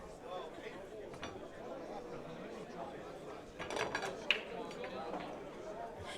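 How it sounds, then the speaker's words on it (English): A crowd at a professional pool match in a billiards hall murmurs and grows more vocal, a dense indistinct chatter that swells briefly before settling back. "Crowd's getting vocal."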